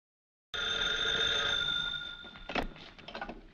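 A telephone bell rings with a steady, bright tone for about a second and a half, then fades into a few softer broken rings near the end. No one speaks.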